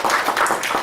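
Congregation applause during a Korean church's New Year's Eve service in New York: a short, steady burst of dense clapping from many hands filling the room, with no voices over it.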